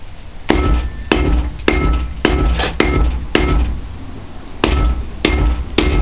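Blacksmith hammering hot steel on a round die while forging a diagonal hot set chisel: loud, sharp ringing hammer blows, about ten strikes in a steady, slightly uneven rhythm, close and clear with no talk.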